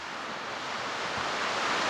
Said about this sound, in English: Some of that noise you're hearing is rain outside.